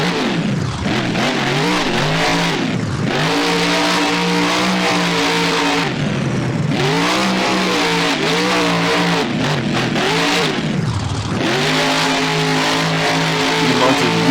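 A monster truck engine in the BeamNG game, on a fairgrounds freestyle course, revs loudly and repeatedly, climbing and falling in pitch in surging waves as the truck launches over ramps, close and continuous.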